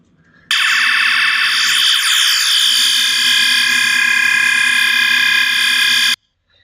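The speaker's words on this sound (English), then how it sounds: "We're gonna have to mess with fire alarms again." Fire alarm under test in a town-building game, a loud electronic siren tone that starts abruptly, holds steady for about six seconds with a faint lower pulsing underneath, then cuts off sharply.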